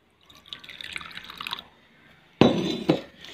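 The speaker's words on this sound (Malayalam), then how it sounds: "ഇനി ഇതിലേക്ക് നമ്മൾ കുറച്ച് വെള്ളം ഒഴിക്കാം." Water is poured into a bowl in two short bursts, first a faint trickling splash and then a louder, closer gurgling pour after a brief pause.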